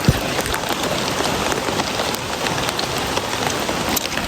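Steady rain falls on a surface in a village in Arunachal Pradesh, a dense, even hiss of drops that stays loud and constant throughout with no voices.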